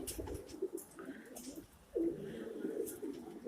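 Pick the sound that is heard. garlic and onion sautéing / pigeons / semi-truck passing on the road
pigeons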